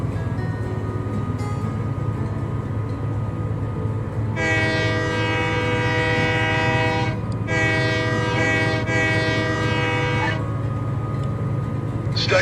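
A locomotive in the train-driving game Train Life pulls away under open throttle, a steady low engine rumble carrying throughout, overlaid by two long, loud horn blasts with a brief break between them.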